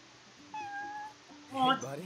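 A stray cat in Final Fantasy XV meows, high and tonal, a couple of times at close range, with the game's background sound and some voice underneath.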